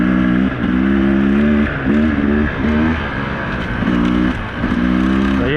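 A Sherco 300 Factory Edition dirt bike engine runs under power close up, its loud buzzing note rising and falling as the throttle opens and closes in repeated bursts, with no speech.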